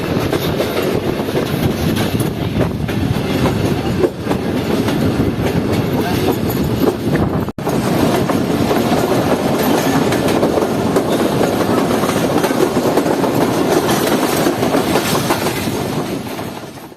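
The Khyber Mail train runs loud and close throughout as it crosses from the down track to the up track. Its wheels keep up a steady rolling roar with clattering over the track joints, and there is no talking.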